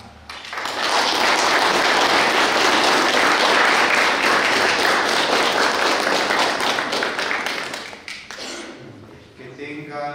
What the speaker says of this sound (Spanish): Nosotros los presentes vamos a dar un fuerte voto de aplauso a nuestra hermana.